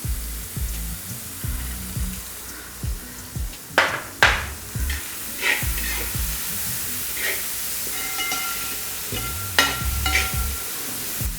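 Onion, ginger and crushed garlic fry in a pan for chicken kondattam, a soft hissing sizzle with intermittent clanks and scrapes of stirring, close by and without talk.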